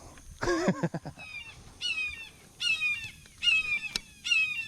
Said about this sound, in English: You hear this red-shouldered hawk.